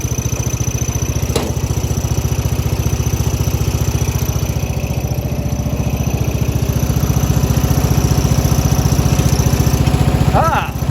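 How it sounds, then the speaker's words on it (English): A single-cylinder engine on a 1995 Craftsman LT4000 lawn tractor runs with a steady, loud pulsing chug while the hood rattles along with it, and a person talks over the noise. "This is a single cylinder, so it makes the hood rattle a little bit."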